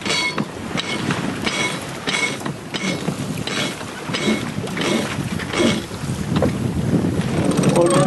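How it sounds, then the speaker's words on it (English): A sailboat running wing and wing in a very light wind in the doldrums, near the equator, with steady wind and water rush and repeated soft creaks and slaps from the rigging throughout. "here we are, sailing wing and wing with a very light wind, heading for the equator"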